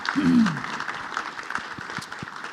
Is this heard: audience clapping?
yes